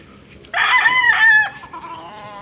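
A rooster crows once, loud and close, a single drawn-out call of about a second rising over the quiet murmur of other chickens at a poultry farm where birds are kept for sale.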